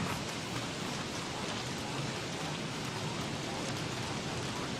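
Steady rain pours in the video game Don't Starve, a dense, even hiss of falling water that stays constant and moderately loud throughout, with no speech over it.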